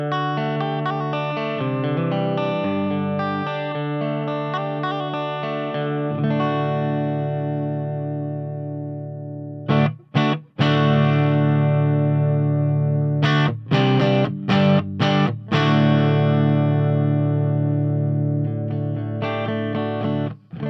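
Electric guitar played through a Quilter 101 Mini Reverb amp with the limiter turned up, sustained distorted chords and notes ringing loud and close, with a few brief gaps between phrases.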